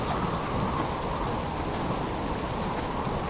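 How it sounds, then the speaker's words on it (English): Steady, dense rain pours down through a stormy day in the survival video game Subsistence, with a continuous low rumble of thunder beneath it, unbroken and evenly loud throughout. "it's a miserable, stormy day"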